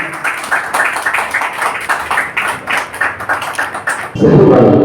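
Dense crowd applause at a Varanasi news gathering honouring a journalist, loud steady clapping from many hands for about four seconds before it cuts to a lower rumbling background.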